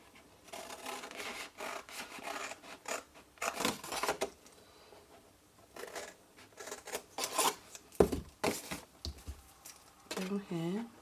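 Card stock being cut with scissors or a trimmer while making a cube box, several bursts of dry rasping strokes separated by pauses, close and fairly loud, with someone talking briefly near the end.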